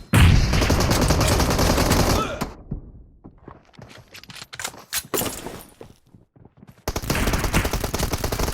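Pistol gunfire in the mobile game PUBG Mobile comes in dense rapid bursts at the start and end, with sparse single sharp shots and thuds between them.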